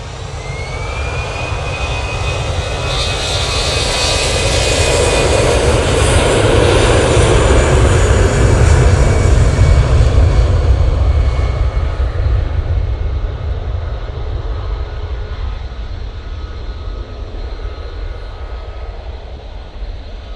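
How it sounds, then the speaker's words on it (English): Jet airliners on the takeoff roll at Manchester Airport give a loud, steady engine roar that swells to a peak midway with a rising whine, then slowly fades as the aircraft pulls away, with no talk. "These jets, now on the roll"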